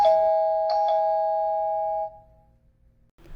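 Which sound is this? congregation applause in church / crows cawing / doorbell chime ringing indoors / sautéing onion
doorbell chime ringing indoors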